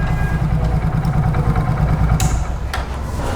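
A Hero Super Splendor motorcycle idles close by after its silencer pipe was welded, a steady low engine thrum with rapid even pulses and light mechanical clatter.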